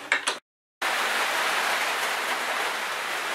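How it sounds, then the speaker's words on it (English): Steady rain falls in the background of an outdoor workshop where a 4WD fridge slide is being built, a continuous broadband hiss that stays loud and even after a short silent gap. "sorry about the rain in the background"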